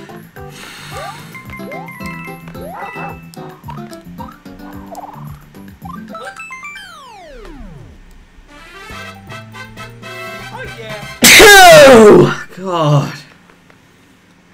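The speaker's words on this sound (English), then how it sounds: "that was a good sneeze" One loud, abrupt sneeze bursts out close to the mic, followed by a quick exhale, over light chiptune-style music and sound effects from New Super Mario Bros. U, with someone talking before and after.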